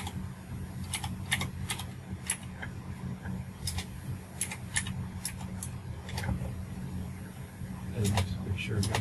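Rapid, irregular clicks of typing on a computer keyboard, close by, over a low steady hum with faint background voices.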